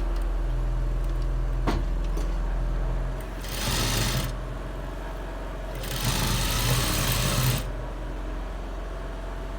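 A sewing machine stitches a trouser side pocket in two bursts of rapid whirring, each lasting a couple of seconds, over a steady low motor hum.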